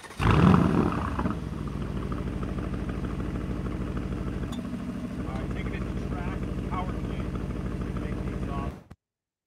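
A 2021 Aston Martin Vantage Roadster engine gives a loud, growling rev burst at the start, then settles into a steady, heavy drone that holds close by until it cuts off just before the end.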